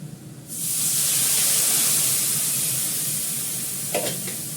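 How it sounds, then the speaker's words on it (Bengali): Hot water poured into a hot pan with fenugreek sets off a sudden loud hiss that holds steady for several seconds, with a brief clatter near the end. "অল্প করে গরম জল দেবো এর মধ্যে।"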